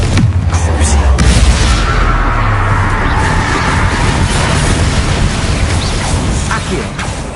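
The Confringo fire spell explodes in a Hogwarts video game: a loud, booming blast opens with a heavy low rumble, then a crackling, crashing wash of effects that slowly fades over several seconds.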